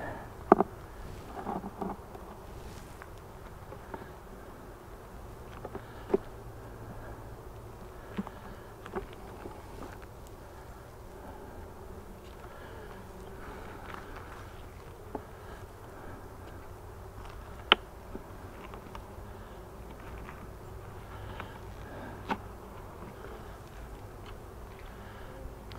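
Honeybees from a queen rearing hive with brood and drawn comb keep up a steady, low buzzing drone, with an occasional louder bee passing close by.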